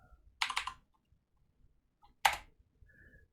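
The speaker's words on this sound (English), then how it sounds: "I'm going to type swap" Two brief clusters of computer keyboard keystrokes, quiet, close clicks with silence between, while entering settings during an Arch Linux installation.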